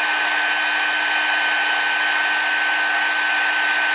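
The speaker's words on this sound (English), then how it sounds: "just hold your heat gun over one spot until you see that spot start to change" A heat gun blows hot air over a stamped craft medallion ornament, a loud, continuous whirring roar that holds steady from start to finish with no voices.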